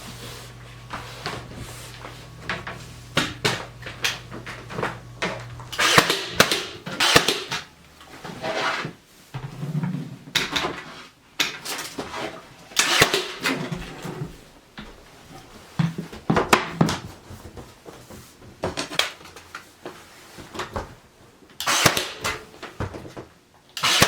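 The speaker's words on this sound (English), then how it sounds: "I'm gonna use my miter shears at a 45-degree angle to cut the quarter round" Miter shears snipping quarter round molding at a 45-degree angle, a series of sharp, close crunching clicks and snaps in irregular bursts, with handling noise between cuts.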